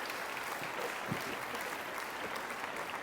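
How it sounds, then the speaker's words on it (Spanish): A church congregation applauds for the Lord during a Spanish-language sermon, a soft, distant and continuous wash of clapping with no clear individual claps, steady throughout. "Denle un aplauso al Señor."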